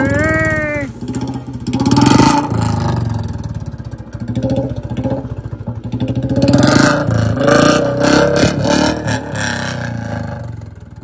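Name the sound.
Royal Enfield Bullet motorcycle revving, loud exhaust silencer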